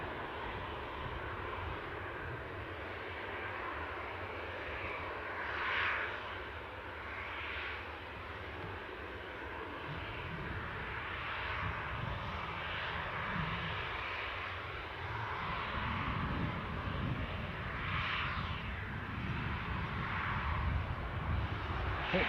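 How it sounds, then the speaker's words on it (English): A British Airways airliner on the move at Newcastle airport, its engine noise a steady, continuous roar from a distance, swelling gradually louder toward the end with no voices. "British Airways on the move as well"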